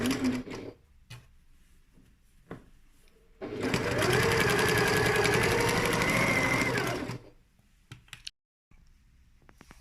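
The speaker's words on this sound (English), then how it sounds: "So we're just going to sew this opening up." A sewing machine stitches the opening of a pencil case closed, running loud and steady for about four seconds in a rapid mechanical whir, with brief clicks and handling noises before and after.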